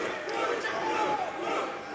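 A wrestling crowd at the MLW Fury Road '25 show cheers for Blue Panther, a brief roaring swell of many voices heard from a distance that rises and dips slightly.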